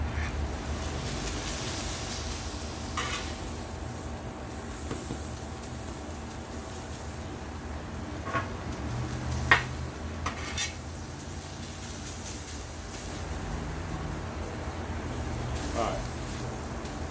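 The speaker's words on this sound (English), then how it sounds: "I'm gonna push some of that meat to the side and mix it with my onions" Meat pushed and mixed with onions on a Blackstone griddle for a Philly cheesesteak: steady clinks and scrapes of a metal spatula over a constant hum, with a sharper clank near the middle and voices in the background.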